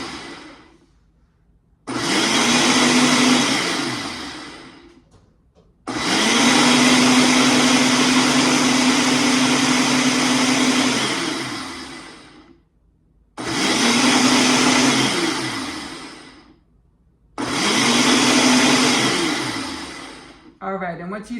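A blender liquefies a can of stewed Italian-style tomatoes in four loud, steady whirring bursts, separated by short pauses, with the motor pitch sagging as each run winds down.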